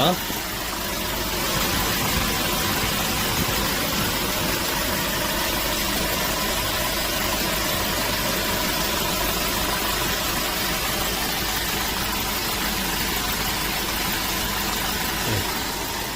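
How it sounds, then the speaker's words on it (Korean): A 2017 Hyundai Porter 2 double-cab truck's 133-horsepower CRDi diesel engine idles close by for the whole stretch, a low, even rumble with a constant mechanical hum and no change in pace. "엔진 소리를 한번 들어보시겠습니다."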